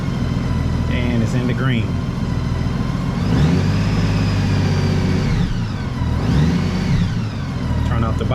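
A motorcycle engine running, loud and steady and close. Its pitch rises and falls with a couple of revs, and someone speaks briefly over it.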